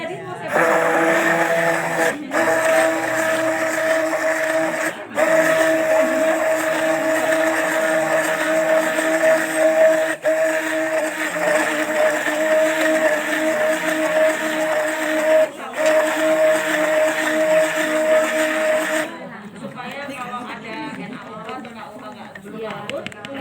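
Aloe vera liquid shampoo mixture churned by a motorized mixer, a steady loud whirring drone with a sustained hum, running continuously with brief dips before cutting to quieter sound near the end; voices talk over it.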